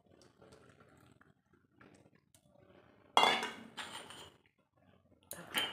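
Red tea poured into a cup in a home kitchen makes a short, bright splash with a clinking edge, then stops. A second brief burst follows after a quiet pause.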